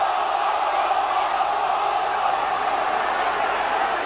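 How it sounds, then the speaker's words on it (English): An angry football crowd at a Swansea City versus Cardiff match roars in a dense, sustained wall of shouting and jeering, loud and unbroken throughout. "Crowd a little bit angry"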